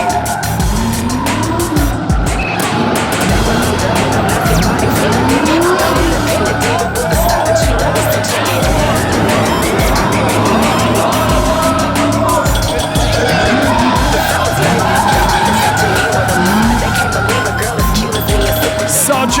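Drift cars at a Red Bull Drift Shifters event, loud engines roaring and tires squealing in sustained, wavering skids, with a crowd faintly behind and a commentator talking over it.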